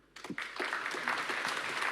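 Audience applause at a public science talk on cosmic particles in France, a dense patter of clapping that swells in quickly and holds steady at moderate level for a couple of seconds.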